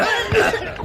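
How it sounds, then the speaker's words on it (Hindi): A short, raspy cough or throat-clearing, close and fairly loud, lasting under a second. "खांसते खांसते सब बेदम हो गए।"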